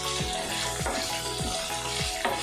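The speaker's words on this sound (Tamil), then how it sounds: "ஒரு பூண்டு அளவுக்கு புளி அதையும் சேர்த்து வதக்கிக்கலாம்." Garlic, onion and tamarind sautéing in a pan for garlic chutney, a steady loud sizzle with a few periodic low thumps and scrapes of stirring, no talking.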